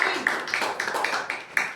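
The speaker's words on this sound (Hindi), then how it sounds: "वेरी गुड, ताली बजाओ।" A school class claps hands in a math lesson, making quick rhythmic claps about four per second, crisp and fairly close over a roomy background murmur.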